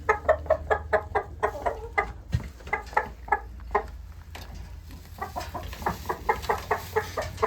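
A flock of chickens in a coop clucking in a quick, steady rhythm, with a rooster's louder calls mixed in, close by and continuous.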